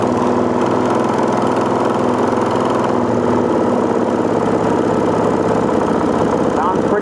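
A small 4-stroke engine idles after carburetor idle adjustment, a close, steady, even putter that runs unbroken throughout.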